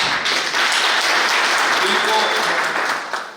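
A crowd at a Chandigarh secretariat commemoration of Mahaparinirvan Diwas breaks into loud, dense applause that fills the room steadily, then thins slightly toward the end, with faint voices mixed in.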